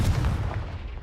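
Confringo blasting spell exploding in Hogwarts Legacy, a loud, heavy booming burst that opens hard and rolls off into a dull rumbling decay.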